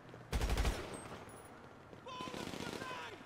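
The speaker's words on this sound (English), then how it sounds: "Who's shooting me?" Rapid automatic gunfire bursts out loudly in the GTA V video game, with a second rattling volley later over game sounds and background noise.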